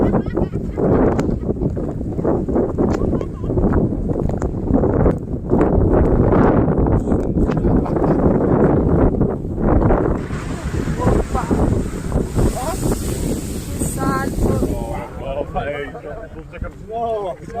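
Snowstorm wind roars across the microphone at the geyser park in Iceland, a loud and continuous buffeting that keeps going while a person talks over it.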